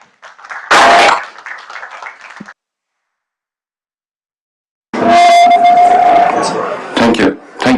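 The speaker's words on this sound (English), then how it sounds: "A round of applause for him, please." Audience applause for a speaker at a renewable energy pre-assembly session, a loud burst of clapping that fades out, then after a pause a second, fuller round of clapping in a conference room.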